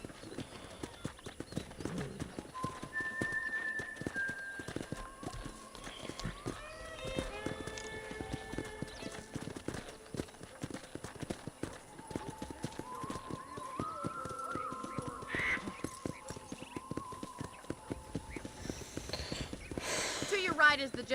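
Steady clip-clop of horse hooves on a dirt path in the Western game Red Dead Redemption, moderately close and continuous. Music and occasional speech run over the hoofbeats.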